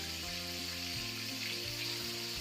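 Mutton with pepper and turmeric sautéing in oil in a pan, giving a steady, close hiss of frying that runs unbroken throughout, with soft background music under it.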